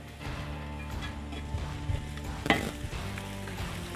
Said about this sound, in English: We'll let these veggies cook all the way down